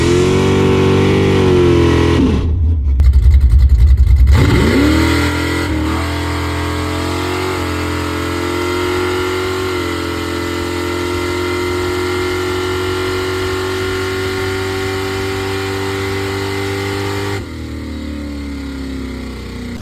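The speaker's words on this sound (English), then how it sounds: "let the car warm up a little bit and run it" A 1987 Chrysler Conquest engine idles loudly and steadily while warming up, with one brief rev near the start before settling back into an even, rumbling run, no talking.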